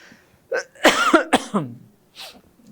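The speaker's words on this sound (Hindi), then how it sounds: "कैसे खांसी आ रही।" A cluster of several harsh coughs close to the mic, coming in quick bursts with a short pause, then one last softer cough.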